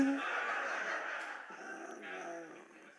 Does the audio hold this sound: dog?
yes